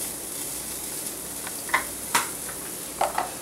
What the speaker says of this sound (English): I'm gonna toss in a little bit of ginger.